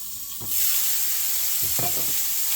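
ALDI beer brats fry in a pan, a loud hiss of sizzling fat that surges in after a moment of quiet and holds steady, with a few soft scrapes of stirring.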